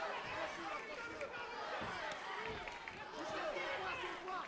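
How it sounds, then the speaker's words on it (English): A Bulgarian crowd at a European championship fight rumbles with steady chanting and babble for fighter Kristiyan Doychev, a dense roar of many voices from all around, with faint speech mixed into it. "You hear the chants, Doychev, the Bulgarian crowd loving him."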